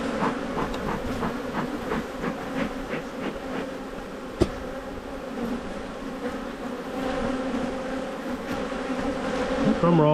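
Honeybees at an open hive in a white hive box buzz in a dense, steady hum close by, with one sharp knock partway through and the swarm growing a little louder toward the end.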